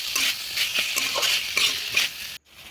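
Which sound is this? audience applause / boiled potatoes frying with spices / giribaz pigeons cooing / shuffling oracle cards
boiled potatoes frying with spices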